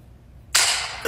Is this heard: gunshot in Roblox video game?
yes